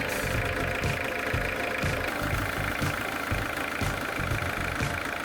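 A Citroën XM that had sat abandoned since 2023 idles on its own, its engine throbbing in a steady, slightly uneven rhythm at close range and moderate loudness, with no talk.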